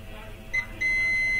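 A multimeter in continuity mode beeps while probing a ground point on a phone circuit board: a short beep, then a steady sustained tone over a low background hum.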